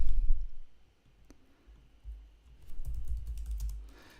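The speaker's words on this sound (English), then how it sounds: "I'm typing too fast" Someone types quickly on a computer keyboard, with close, crisp key clicks coming in uneven bursts and short pauses between them.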